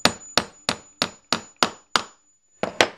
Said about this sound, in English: Now I'm going to take and tap my metal rod into this 1/4 inch hole.